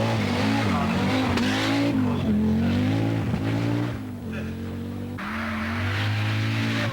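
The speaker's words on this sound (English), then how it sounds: "Quite a tricky hairpin this, and Hannu Mikkola looks good. Audi Quattro coming along now." An Audi Quattro rally car at the 1984 RAC Rally works through a tight hairpin with a loud, rasping engine that drops off the throttle and revs up again as the car exits, while a commentator talks over it.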